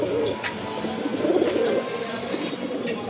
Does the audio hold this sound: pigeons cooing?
yes